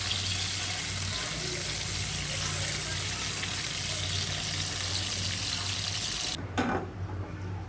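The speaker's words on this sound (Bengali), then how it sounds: "ডিমগুলো হালকা ভাজি করে নিব, তারপর রোস্টটা রান্না করবো।" Ten boiled eggs lightly frying in a pan, a steady loud hiss and sizzle that continues throughout, with a brief clatter near the end.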